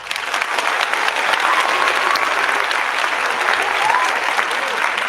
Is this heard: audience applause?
yes